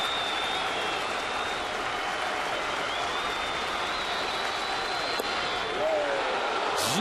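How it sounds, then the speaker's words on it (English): Baseball crowd in a 2009 Minnesota Twins game cheering on left-handed pitcher Phil Koch, a steady, distant roar and scattered clapping holding evenly throughout with no clear voices on top. "Now the fans here getting on their feet, trying to cheer on the left-hander"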